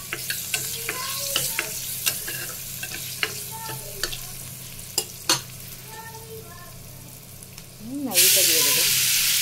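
Carrots and beans frying in a pan with Maggi noodles bring soft crackling sizzle and scattered utensil clicks and scrapes, and near the end a loud burst of hissing steam takes over, with a voice murmuring faintly beneath.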